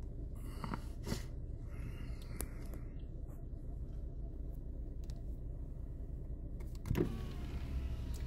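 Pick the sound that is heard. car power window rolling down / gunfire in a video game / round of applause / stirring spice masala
car power window rolling down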